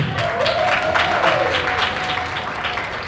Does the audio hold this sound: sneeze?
no